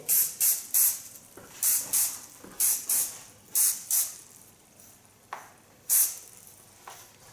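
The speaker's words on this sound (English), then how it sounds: "Well, then I'm gonna use rock spray foam." Short hissing bursts from an aerosol can of hair styling foam, sprayed in quick pairs and singles with brief gaps, close and sharp.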